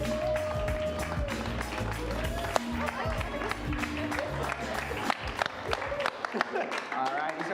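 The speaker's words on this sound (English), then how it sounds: "give a round of applause to the Curious Comedy players" An improv comedy show audience claps and cheers for the players, with a dense patter of applause mixed with crowd noise and voices talking over it.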